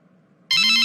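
A telephone abruptly starts ringing, a loud electronic ring bursting in after near silence and continuing to the end, just before a call is answered.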